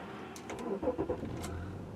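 A 2007 Chrysler Pacifica Touring AWD's V6 engine cranks briefly and catches, settling into a low steady idle, heard close and fairly quiet over about two seconds.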